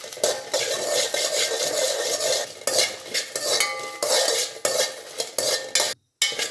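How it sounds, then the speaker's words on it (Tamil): Dried red chillies frying in a few drops of oil over a medium flame, with a utensil stirring and scraping the pan in repeated strokes, close and busy, brief pauses between bursts and no talking. "இந்த காஞ்ச மிளகாவை நல்லா மிதமான சிம்மில் வச்சுட்டு நல்லா வதக்கிக்கணும்"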